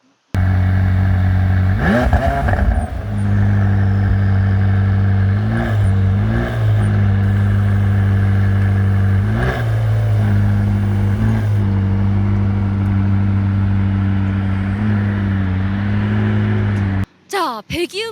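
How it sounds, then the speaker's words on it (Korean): A McLaren 600LT supercar idles with a deep, throbbing exhaust note, heard close up from behind, punctuated by several sharp revs that swell and fall back. "기왕 뒤에 있는 김에 우리가 배기음도 좀 듣고 올게요"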